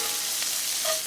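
Horsetail sautés in a hot pan, a dense continuous hiss and sizzle, close and steady with a faint whistle-like tone near the end, no voices.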